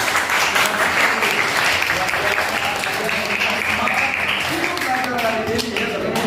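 Classroom of students clapping together in steady, dense applause that fills the whole stretch at close range, with voices mixed faintly underneath.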